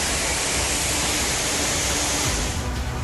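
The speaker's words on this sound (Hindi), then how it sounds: "ये शोर, ये पानी की रफ्तार" Rushing floodwater tearing through a residential area in Pune, a loud, steady broadband roar of fast-moving water with no talking.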